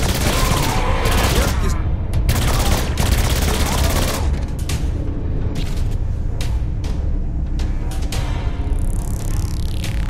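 Dense, loud gunfire from Saints Row IV, a sustained barrage of rapid shots and booms with sharp bursts throughout, while a voice talks over it.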